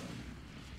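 In Hogwarts Legacy, the Incendio fire spell lands with a deep, rumbling, explosive burst that fills the whole short moment, dense and loud with no quiet gap.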